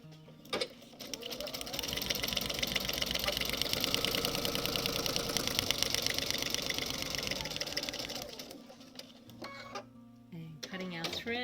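A sewing machine runs steadily, stitching a seam in foundation piecing for a quilt block, a fast even mechanical whir lasting several seconds before stopping, with a few clicks at the start and end.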